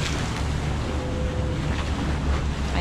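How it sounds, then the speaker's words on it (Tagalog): Heavy surf roars continuously with strong wind buffeting the microphone, water churning loudly close by, at a beach in Ting Kau, Tsuen Wan. "Malakas yung hampas ng tubig."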